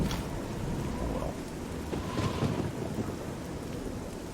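Steady heavy rain with rolling thunder on a dark night in the game Oblivion, a dense continuous wash of rainfall with low rumbles swelling midway, no speech.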